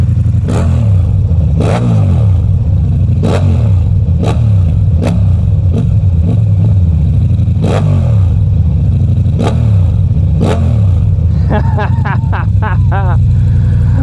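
A 2023 Ducati V4 Diavel motorcycle runs loud and close, its engine rumbling steadily with repeated sharp throttle blips and revs throughout, and a quick burst of rapid pulses near the end.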